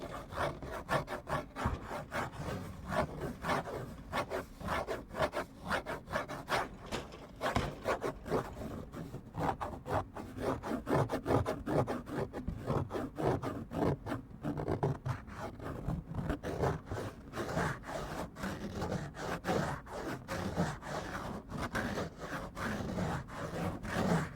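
Close-miked scratching and rubbing of fingernails on a surface goes on in quick, continuous, uneven strokes, crisp and near with no voice.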